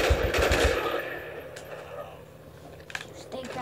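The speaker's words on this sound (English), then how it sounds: "This is the only gun that keeps me alive." Gunfire in the Call of Duty Black Ops video game opens with a rapid automatic burst, fairly loud, that then fades into quieter game noise. A voice may be present underneath.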